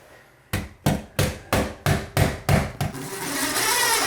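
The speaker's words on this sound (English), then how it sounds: "This is my rubber hammer." A rubber hammer taps eight times in a steady rhythm while laying herringbone tile, each blow a solid, slightly dull knock, followed by a rising hiss of noise.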